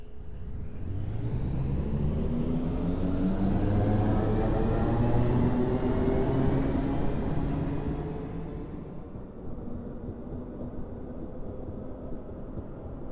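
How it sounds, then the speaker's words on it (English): A Class 455 electric train in a train simulator video game rumbles and whines steadily, its motor tones rising in pitch as it accelerates, then easing into a quieter, duller roll. "The train sounds are not recorded from a real Class 456, they are instead recycled from the Class 455 DLC"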